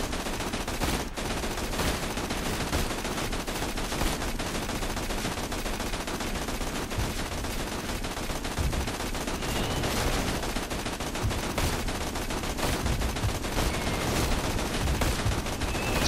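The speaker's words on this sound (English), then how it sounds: "I'm laying down suppressing fire!" Relentless co-op gunfire in Borderlands 2 roars as a dense, unbroken wall of rapid shots and blasts, loud and close throughout the whole stretch with no pauses.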